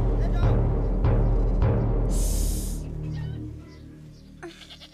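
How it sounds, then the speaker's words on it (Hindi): Goat bleating amid a busy movie scene, a short wavering bleat in the middle over low rumbling effects and background voices, fading into quieter sounds afterward. "बकरी की आवाज थी वो"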